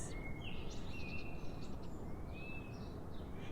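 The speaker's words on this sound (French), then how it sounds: "le chant des oiseaux" Birds sing over a soft, steady background hiss, giving several thin whistled phrases, some rising and some held, faint and a little distant.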